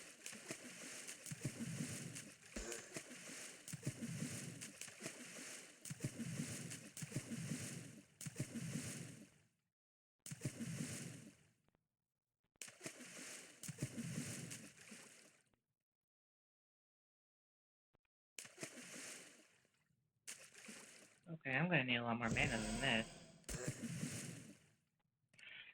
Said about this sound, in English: just a few more splish splashes